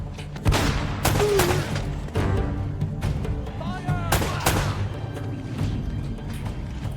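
Video game gunfire cracks out in sharp, loud bursts, several shots spaced irregularly with a rumbling tail, and a brief voice slips in between them.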